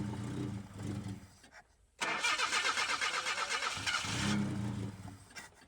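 An Opel car engine cranks briefly, goes quiet, then catches and fires up into a loud, steady idle with a rough rhythmic pulse, close by with no talk over it.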